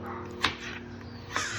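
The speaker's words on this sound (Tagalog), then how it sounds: "ang ingay yung mga ibon dito mga kababayan" Crows cawing in a rural Philippine outdoor setting, two short sharp calls about a second apart over steady background noise.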